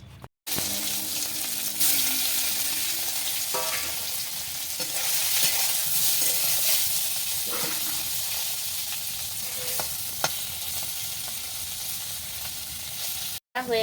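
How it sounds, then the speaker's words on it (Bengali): Oil sizzles in a very hot wok, a steady loud hiss with occasional scraping and clinking from stirring, continuous throughout. "কড়া গরম হয়ে গেছে, আমি ভাজার জন্য তেল দিয়ে দিলাম।"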